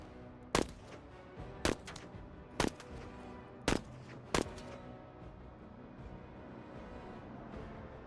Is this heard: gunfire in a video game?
yes